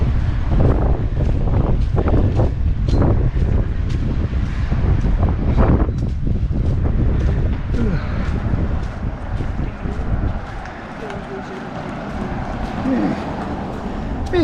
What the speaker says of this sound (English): Ooh, pretty breezy out here.